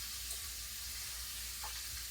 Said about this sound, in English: We'll let that fry up before I flip it.